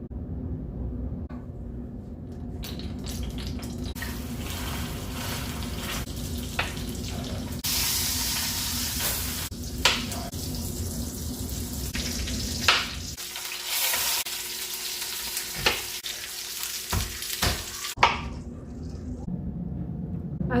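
A beef roast seasoned with salt, pepper, onion, garlic and mustard powders sears in a pan with a steady, close sizzle, broken by brief clatters and a run of tap water near the end.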